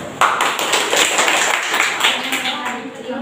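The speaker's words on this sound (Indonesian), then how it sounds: "silakan berikan tepuk tangan dulu" Rapid clapping from a classroom audience during a group business presentation, a dense continuous patter close and loud, with voices mixed in underneath.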